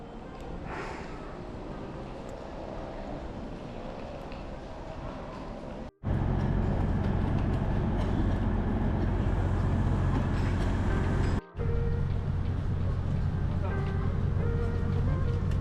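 Interior of the feeder train running from the Whoosh high-speed rail station toward Bandung, with a steady low rumble and rolling hum that grows louder after a brief cut, continuous throughout.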